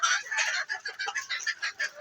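Fayoumi chickens cluck in quick, close bursts while pecking at cabbage leaves, a busy chatter of soft calls with short pauses between them.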